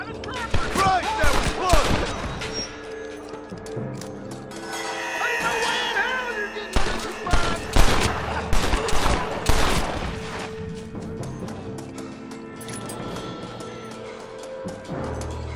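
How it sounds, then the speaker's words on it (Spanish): Gunfire erupts in Red Dead Redemption near a mine, with loud bursts and rapid shots mixed with clattering impacts and game music, while a player talks over parts of it. "Se me hace que la ametralladora está ahí."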